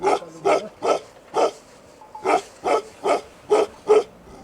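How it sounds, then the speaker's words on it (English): A large, heavy-headed Bhutanese mastiff barks close by in a steady series of about ten deep, resonant woofs, in two bursts with a short pause between. "This dog is a robust animal with a very large head and powerful jaws"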